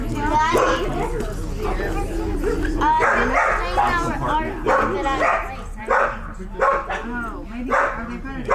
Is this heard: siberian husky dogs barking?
yes